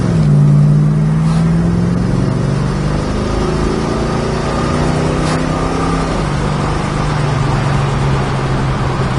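A 1967 Dodge Dart with a Mopar engine accelerates on a busy road, its engine note rising steadily, then dipping at a clean gear shift around six seconds before pulling on, loud and close throughout without talk.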